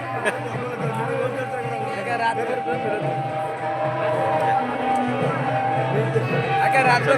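Crowd noise at a village fair (jatra), a steady murmur of many voices and bustle close around, continuous and fairly loud throughout.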